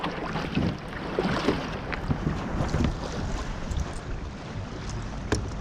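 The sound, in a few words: Hobie Revolution 11 kayak moving on water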